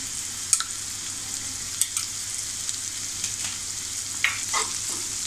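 Tomato and ginger-garlic paste sauté gently in a pan for prawn masala, a soft steady sizzle under scattered clinks and scrapes of a spoon; no one speaks.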